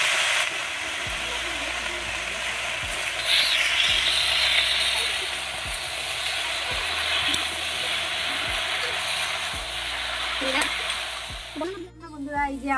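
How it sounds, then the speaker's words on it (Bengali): Chopped sour spinach hits hot oil in a kadai and fries with a loud, steady sizzle and hiss, broken by occasional stirring knocks, while someone talks over it. "তো এখন এই যে কেটে রাখা টক পালংগুলো দিয়ে দিচ্ছি।"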